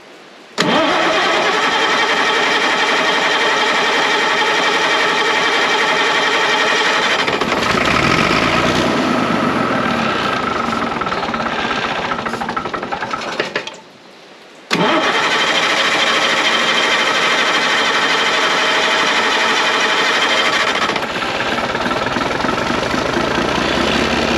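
A circle sawmill runs loud and steady with its engine roaring, broken by a short drop to near silence before the machinery picks back up at full volume.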